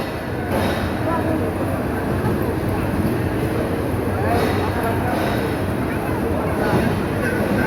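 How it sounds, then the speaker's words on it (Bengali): Mohanagar Express, a Dhaka to Chittagong train, pulls out of Dhaka Kamalapur railway station with a steady, loud rumble of moving cars that continues without a break. "ট্রেনটি ঢাকা কমলাপুর রেল স্টেশন ছেড়ে যাচ্ছে।"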